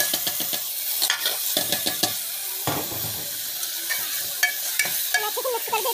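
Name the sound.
stirring rice with cumin and chili in hot pan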